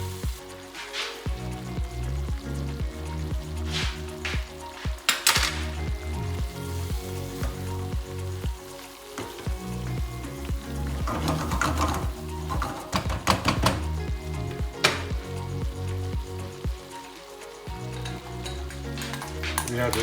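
Sauce reheating in a pan on the stove, a steady sizzle and bubbling with scraping and stirring clicks throughout, under gentle background music.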